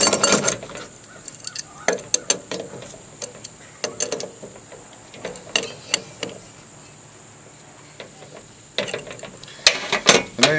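A ratchet socket wrench tightens the center nut on a small wind turbine, giving bursts of quick clicking pawl ratchets separated by pauses, close and moderately loud against a quiet background.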